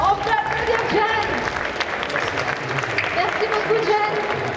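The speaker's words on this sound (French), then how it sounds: "On peut applaudir John." An audience at a video game competition applauds a competitor, steady clapping throughout, mixed with a voice talking over it.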